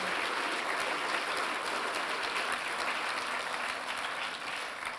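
A large audience claps at the Mindful Money Awards 2022 ceremony, a dense, even wash of applause that holds steady and fades slightly at the end.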